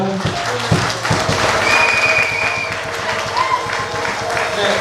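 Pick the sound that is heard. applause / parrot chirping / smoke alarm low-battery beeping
applause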